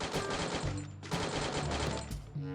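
Sustained automatic gunfire in Free Fire, loud and close, with rapid dense shots that surge in two or three bursts and no talk over them.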